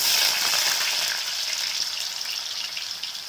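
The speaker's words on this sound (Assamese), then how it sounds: "এতিয়া আমি প্ৰথমতে আলুখিনি ভাজি ল'ম।" Chopped potatoes frying in hot oil in a wok, a steady close hiss of sizzling that holds evenly throughout with no voices.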